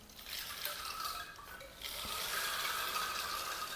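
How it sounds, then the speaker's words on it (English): A rain disc sound healing instrument by Nazar gives off soft trickling, water-stream and rain-like patter, with faint clicking textures, quiet and alone. "I think it's a mixture of water stream, but it can also resemble the sound of rain"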